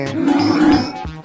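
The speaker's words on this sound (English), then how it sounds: "Bear." A bear gives one short, deep growl, loud and close, lasting about a second.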